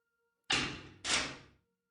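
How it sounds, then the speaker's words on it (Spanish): A heavy prison cell door slams shut twice in a row, each hit a loud, sharp metallic bang that rings and fades over about half a second, with nothing else around it. "No bien los guardias cerraron la puerta y pasaron candado?"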